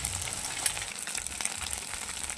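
Boiled chow mein noodles frying in a pan give a steady close sizzle with light stirring scrapes, moderately loud and unbroken.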